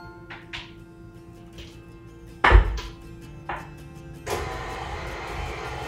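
Flour is stirred by hand into a butter, vanilla and sugar mixture, giving scattered scrapes and knocks of a utensil against the bowl, with one loud clunk midway and a steadier rustle toward the end.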